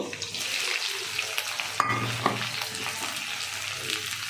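Chopped onions sizzle in hot oil in a pan for paneer butter masala, a steady close frying hiss with a couple of light clinks of a spoon.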